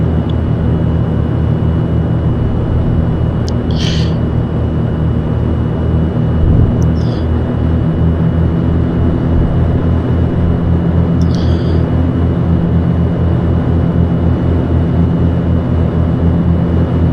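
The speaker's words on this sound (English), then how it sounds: "it has really good rolling sounds, and like in here, this power range sounds are great" Twin piston engines of a Cessna 404 in a flight simulator, a loud continuous droning rumble at high power, steady throughout with a few faint brief clicks on top.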